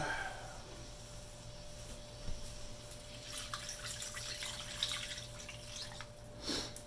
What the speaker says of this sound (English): let's put that water in.